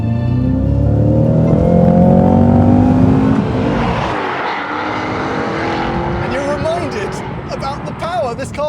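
A 2022 Cadillac CT5-V Blackwing in V mode roars loudly from inside the cabin as the engine revs up with a rising, heavy drone, then settles. Someone talks over the engine toward the end.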